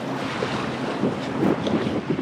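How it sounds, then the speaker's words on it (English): Small, choppy Atlantic Ocean waves slapping beneath a sailboat under way, a steady wash of water and wind noise with soft irregular splashes swelling now and then, close and continuous with no talking. "the waves are like minuscule. They're like a little choppy, but they're not bad."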